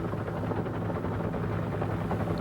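An AH-1S Cobra attack helicopter flies nearby, its loud, steady rotor and turbine drone filling the whole clip with dense, unbroken low thumping and buzz.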